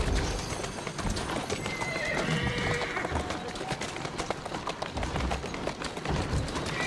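A horse whinnies over steady clip-clopping hooves in Assassin's Creed Syndicate, with a dense layer of background noise throughout.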